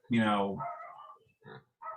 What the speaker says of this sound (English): the dogs are barking out, so they don't like it either